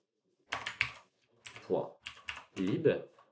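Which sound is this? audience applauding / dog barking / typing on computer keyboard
typing on computer keyboard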